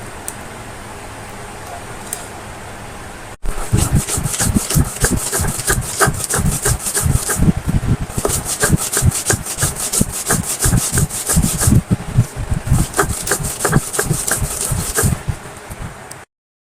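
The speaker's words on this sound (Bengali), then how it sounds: "ভর্তা বাটা হয়ে গেছে" Bottle gourd peel and seeds are ground with shrimp, onion and garlic into a bharta, a fast rhythmic scraping and rubbing of grinding strokes that starts after a short quieter pause and continues steadily, close and loud.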